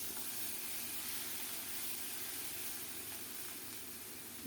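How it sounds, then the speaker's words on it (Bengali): Ground onion paste hits hot oil already tempered with whole cumin, a cardamom pod and a bay leaf, giving a steady, even sizzling hiss that holds without pause and without any voice. "অল্প একটু গোটা জিরা একটা এলাচ আর একটা তেজপাতা ফোড়নে দিলাম ফোড়নটা একটু নেড়ে ছেড়ে লাল লাল হলে এখন দেব বেটে রাখা পেঁয়াজ"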